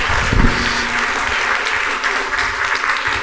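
An audience at a lecture claps steadily, a dense, even burst of applause filling the room from start to finish with no talking over it.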